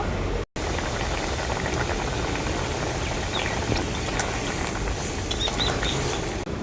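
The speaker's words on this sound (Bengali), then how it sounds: "এরপর আমি ঝোলটা আবারও খুব ভালো করে ফুটিয়ে নেব" Gravy of fried egg and pointed gourd curry bubbles in a pan, a dense, continuous close crackle and burble that carries on steadily after a brief cut near the start.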